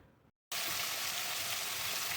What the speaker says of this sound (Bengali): মাছের মাথাগুলো ভালো করে ভেজে নেব।